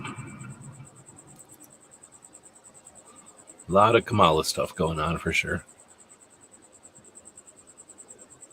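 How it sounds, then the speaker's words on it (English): A cricket chirps indoors in a steady, rapid, high pulsing trill that runs unbroken from start to end, while someone speaks briefly over it in the middle. "why don't you go find that cricket and get rid of it? Hunt that cricket down."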